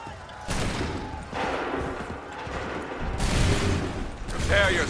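Soldiers fire a musket volley at Bunker Hill in Assassin's Creed 3 Remastered, loud booming bursts of massed gunfire rolling over battlefield din, with shouted voices heard between the shots.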